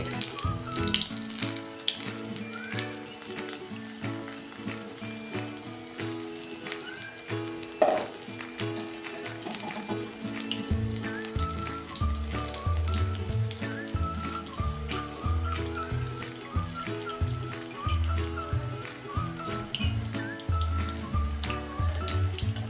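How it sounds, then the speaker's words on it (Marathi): Bhaji fritters deep frying in hot oil for a monsoon snack, a steady crackling sizzle that runs throughout, with music playing underneath and no talking. "ती थोडी थोडी टाकून आपण अशी सगळी आता तळून काढायची"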